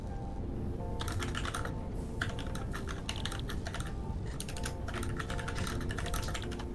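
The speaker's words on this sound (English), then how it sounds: "I hope you can hear my keyboard and it's broadcasting to your stream." Someone types on a computer keyboard during a stream, with quick bursts of clattering keystrokes broken by short pauses, close and crisp over a low background hum.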